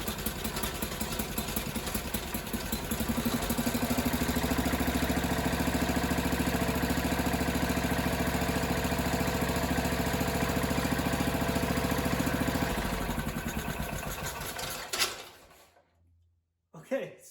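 A small engine on a John Deere 300 garden tractor with a Kohler K341 engine sputters to life on its first start and runs steadily at a rough idle for several seconds, then cuts out abruptly near the end.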